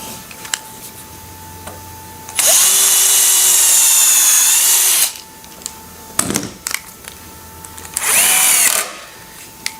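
A power drill drives Phillips screws into planned-furniture module panels, with a long, loud whirring run and a shorter second burst separated by a few clicks and knocks, close by with no speech.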